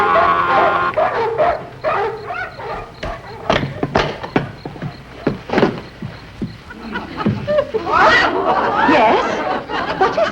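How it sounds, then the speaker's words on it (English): Barking dogs in a 1953 sitcom neighbor scene, sharp yips and barks scattered among thumps and voices, fairly close and loud. "They've got barking dogs."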